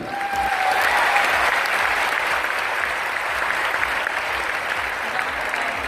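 Loud, sustained applause from a large audience fills a business gathering in Delhi, a dense and even wall of clapping that lasts about six seconds with no speech over it.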